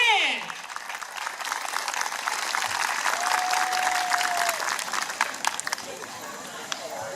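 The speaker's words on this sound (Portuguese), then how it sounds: "eles merecem um aplauso bem forte" Crowd applause for missionaries at an indigenous culture festival opening, steady clapping from many people at moderate loudness with scattered louder claps, and voices heard in the background.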